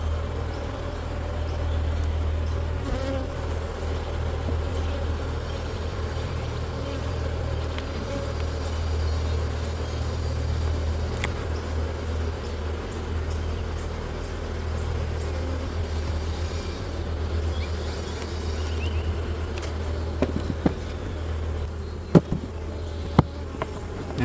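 Honey bees drone steadily around open beehives during a winter hive inspection, a continuous close buzzing hum that persists throughout, with a few sharp knocks and clicks near the end.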